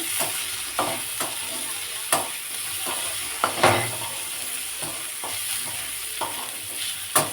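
Cashews, raisins and capsicum frying in oil for fried rice, a gentle sizzle punctuated by irregular spatula scrapes and clinks, close and moderately quiet, with no talk.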